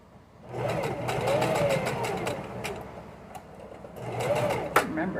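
A domestic sewing machine stitches slowly in two steady whirring runs, with a short pause and a click between them, close and fairly loud.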